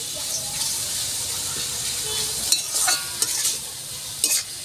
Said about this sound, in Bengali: এভাবে আমি পেঁয়াজটা ভেজে নিচ্ছি।